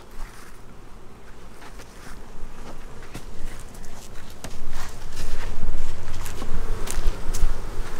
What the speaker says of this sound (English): Right here we have some bees inside.